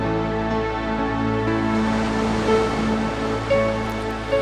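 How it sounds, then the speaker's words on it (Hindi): Ocean waves wash onto the shore in a continuous, fairly loud rushing roar, with steady tonal sounds layered over the surf and no voices. "ये लहरों का शोर कुछ देर के लिए कराहटों की आवाज़ों को दबा देता था।"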